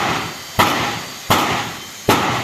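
Hammer striking a truck door to straighten it, three sharp metallic blows spaced about evenly apart, loud and close, each ringing briefly before fading, with no talk.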